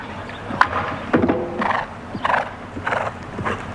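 A horse's hooves thud in a steady, uneven clip-clop across the arena at a show jumping clinic, with snorting breaths between strides, moderately close and without talk.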